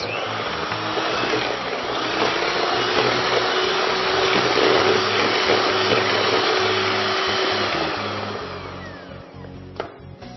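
Electric hand mixer whisking oil and milk into a sugar and egg cake batter, a steady close whir that holds, then slows and fades toward the end, with a brief clink.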